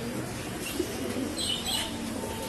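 Pigeons at Tongi pigeon market give low, soft coos with a brief flutter of wings, steady crowd and market background throughout.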